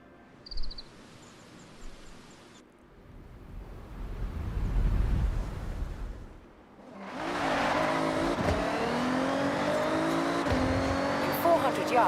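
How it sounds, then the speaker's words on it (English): Toyota Tacoma TRD Pro Forza Edition in Forza Horizon: a brief chime and low rumble build up, then a sustained engine drone with tire noise, running steadily to the end, with a voice briefly present. "Let's try that Toyota Tacoma TRD Pro Forza Edition."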